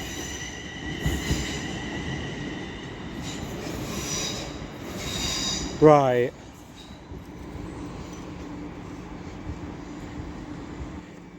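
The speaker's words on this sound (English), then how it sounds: "And then there's another train coming through," A train passing through Stafford station on the West Coast Main Line, a steady rolling rumble with a brief rising wheel squeal near the middle before the sound eases, with a voice speaking briefly.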